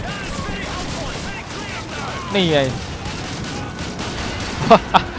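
Gunfire in the World War II shooter game Call of Duty 2: a low rumble of battle under excited talk, then two sharp, loud shots close together near the end.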